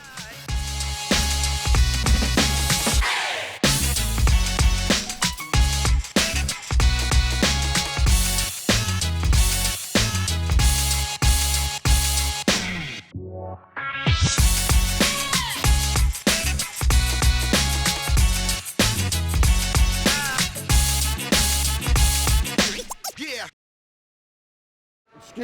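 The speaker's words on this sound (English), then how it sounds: "Excuse the background noise, but this is the new baler, Cadent Pal Packer Mat," Newly installed Cadent Pal Packer Mat recycling baler runs with a loud, dense mechanical roar and clattering, continuous for about twenty seconds, then a short dip and a brief stop near the end.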